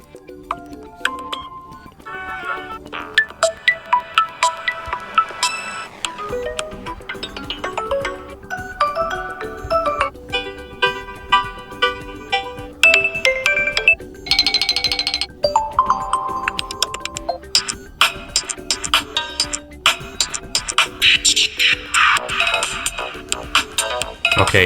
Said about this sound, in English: default ringtones. Let's listen to some of them.